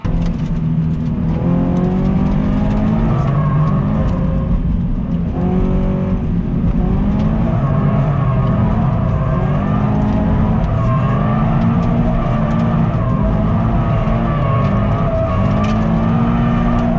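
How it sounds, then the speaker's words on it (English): A Subaru BRZ on sticky tires drifts around a dry skid pad at wide-open throttle near redline. The engine holds a loud, sustained high rev that wavers slightly throughout, with a continuous near roar and no talking. "You basically just need wide open throttle at Redline to hold that drift"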